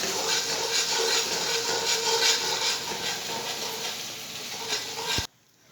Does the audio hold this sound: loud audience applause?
no